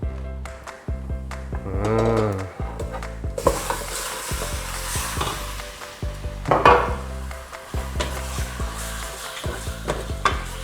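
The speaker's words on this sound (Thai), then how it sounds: "เอาหมู3 ชั้นลงไปผัดแล้วนะครับ" Pork belly stir-frying in a pan for a Thai braised egg dish, with steady sizzling and scraping of a spatula stirring the meat, loud and close throughout with no talking.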